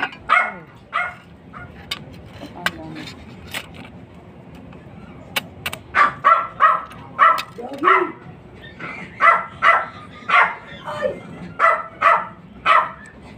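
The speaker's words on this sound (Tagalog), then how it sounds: "Ang ingay ng aso." A dog barks repeatedly at home in short, loud, rhythmic bursts, getting more insistent toward the end, with a few whimpers and someone talking in between.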